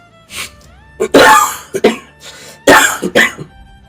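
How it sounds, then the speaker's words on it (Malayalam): A person coughs in a few harsh, close bursts, with short pauses between them, against an otherwise quiet background. "നിങ്ങൾ എന്തെങ്ങനെ ചുമക്കണ്"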